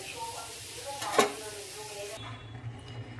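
Pineapple pieces go into hot sugar syrup in a pan for a pineapple chutney, giving a close, loud sizzle with a sharp clatter of the pieces landing, then a softer steady bubbling.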